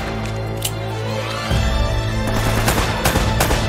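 Rapid automatic gunfire in Uncharted: Drake's Fortune blasts loud and close over a droning game soundtrack, with sharp shots cracking throughout.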